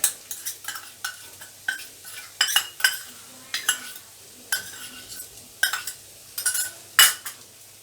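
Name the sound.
stirring banana stem stir fry with grated coconut in pan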